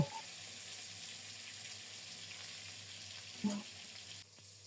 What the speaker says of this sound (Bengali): সবগুলো মাছ একসাথে ভাজা যাবে না তাই চার পাঁচ পিস করে ভেজে নেব